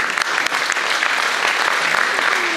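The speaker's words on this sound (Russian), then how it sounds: "Похлопаем звукачу" Audience at a KVN comedy contest for the Mayor's Cup in the Ceadîr-Lunga culture hall applauds the sound engineer: steady, dense clapping from a full room, loud and continuous, with no talk over it.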